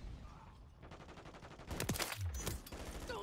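Gunfire in a multiplayer shooter video game, a dense rattle of rapid shots in the latter half, fairly loud against game background noise, with a brief tonal effect mixed in.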